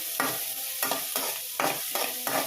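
Goat brain is sautéed in a pan until golden, with a spatula stirring in regular strokes, each pass raising a scraping swish over a soft, constant sizzle of frying.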